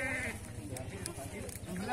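Sheep, including the Garut breed, bleat at a livestock market where animals are traded between dealers. The wavering bleats sound under a man's close, steady talking.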